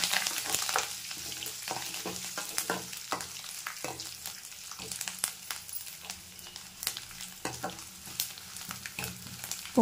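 Tempering of curry leaves and peeled garlic fries in hot oil for a Telugu lentil curry, a soft steady sizzle broken by scattered stirring scrapes and clicks, fairly quiet and close, with no talking.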